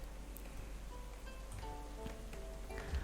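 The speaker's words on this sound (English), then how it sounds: "Oh, and it's raining" Rain falls in a medieval simulation video game as a steady, soft patter with scattered droplet ticks that builds slightly toward the end.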